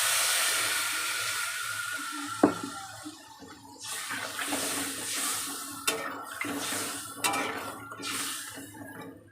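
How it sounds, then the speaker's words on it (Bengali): Water poured into a pan of spiced fish and green banana pieces, a steady splashing hiss with a few sharper clinks and splashes as the pour continues, close and alone. "এবারে জল দিয়ে দেব"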